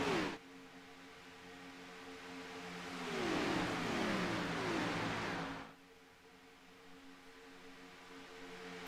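A pack of race cars runs together at Talladega, a sustained engine roar that swells louder for a few seconds mid-clip as cars pass close, then drops back to a steadier distant drone.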